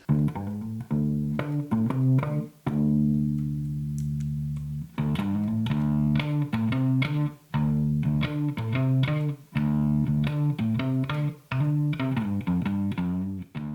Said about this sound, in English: You can go from clean to crunchy rock bass sound.